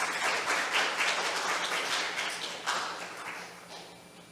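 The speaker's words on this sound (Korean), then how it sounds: "홍성화 학과장님께 큰 박수 부탁드리겠습니다." A conference audience at a university academic gathering claps for a department head, a moderate patter of applause that fades out gradually, with no one speaking.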